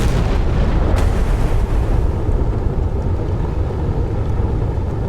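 Missile explosions rumble through a naval battle in the game Sea Power between Australian Hobart and Mogami warships and Chinese Type 055 and 054B ships, a steady heavy low roar with a sharper blast early, no talking.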